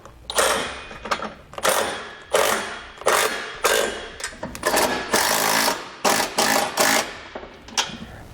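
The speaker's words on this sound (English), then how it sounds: "we can use a 3/4 inch socket to snug it all down" Socket ratchet snugging down bolts on a Curt trailer hitch receiver on a 2018 Ford Edge, heard as about ten repeated loud bursts of rapid clicking with brief gaps, close by and with no talk.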